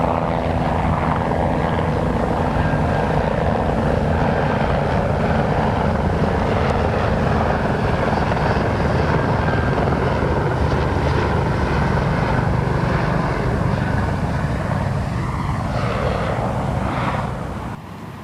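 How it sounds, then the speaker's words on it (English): A helicopter flies low over a cemetery during a funeral service for a fallen police officer, its loud, steady rotor thump and engine roar filling the air continuously before easing off slightly at the end. "A helicopter flyover here above the cemetery, above the Spectrum here."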